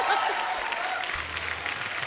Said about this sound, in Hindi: आयशा जी के लिए एक बार जोरदार ताली हो जाए